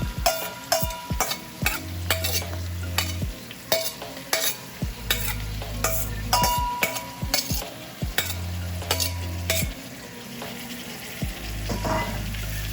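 Saltfish frying in a pan for Caribbean ackee and saltfish, with a steady sizzle under repeated close, sharp scrapes and clinks of a utensil stirring it around.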